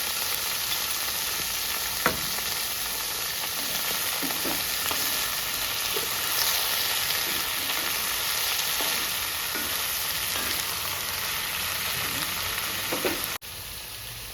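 Brinjal and dried fish curry being stirred in a pan, with a steady sizzle and soft frying hiss throughout and occasional light spoon scrapes and clinks, fairly close, no talk.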